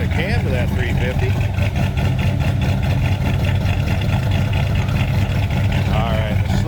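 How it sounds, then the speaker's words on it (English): The 350 V8 of a 1979 Chevrolet Camaro Z28 runs at idle behind the car, its loud, lumpy exhaust note steady while someone speaks over it. "Flip around to the rear and hear it run. A little bit of cam to that 350."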